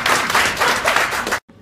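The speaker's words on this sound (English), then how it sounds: "Clap for them!" A burst of crowd applause claps densely and loudly for just over a second, then cuts off abruptly into near silence.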